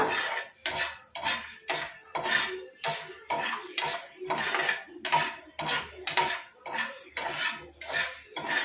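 Chicken sukka roasting in a pan on low flame, a spoon scraping and clanking against the pan in a steady repeated rhythm, close and alone.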